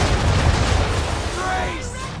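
A volley of ship cannon fire in Assassin's Creed 3, a dense, sustained low rumble of overlapping booms, loud and close, with a shouted voice faintly surfacing near the end.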